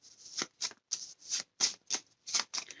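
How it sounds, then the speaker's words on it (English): Level 3 cards from the Hit Z Road board game being shuffled by hand, a series of crisp papery riffles and slides in quick bursts with short pauses between them, close and clear with no voices. "and shuffle them."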